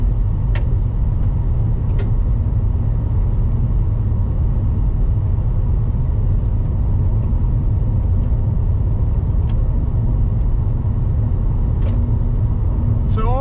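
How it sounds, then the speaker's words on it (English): Interior of a 2023 Nissan Versa S driving on a stony road, a loud steady road rumble with small stones chipping sharply against the side of the car in scattered ticks. "You can probably hear all the stones from this road chipping."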